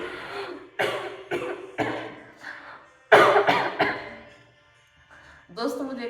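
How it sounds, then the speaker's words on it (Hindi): A woman coughs in a series of hoarse, separate bursts, several close together and then a heavier fit, with brief pauses between, close to the listener. "दोस्तों, मुझे खांसी आ रही है बहुत।"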